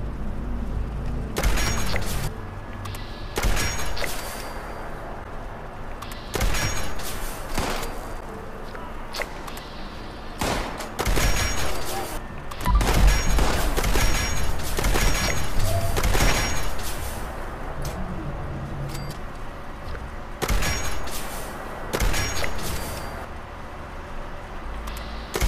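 Gunfire in the video game Fallout 76, heard as a series of sharp, evenly loud shots spaced every few seconds over a steady low background, with no talking.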